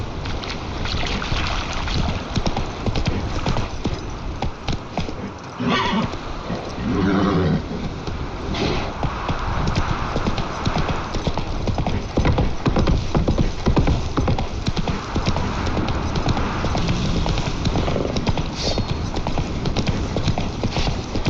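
A horse gallops in The Witcher 3: Wild Hunt, its hooves beating a continuous, loud, fast rhythm against a busy wash of outdoor game ambience that runs for the whole stretch.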